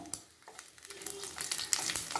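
Dried red chilies sizzle and crackle in hot oil, a fairly quiet, steady frying hiss with small pops scattered throughout.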